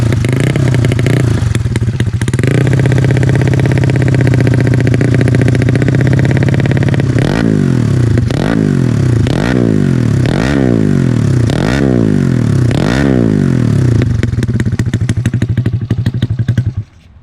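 A modified Honda Beat 150cc scooter-style motorcycle idles loudly and close, then its engine is blipped in a run of sharp, repeated revs that rise and fall before it settles and cuts off.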